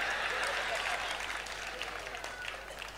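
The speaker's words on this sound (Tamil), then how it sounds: "பல பேர் கை தட்டுறதை பார்த்தா" An audience claps at a Tamil comedy speech, dense sustained applause that is loud at first and then eases slightly, with no voices over it.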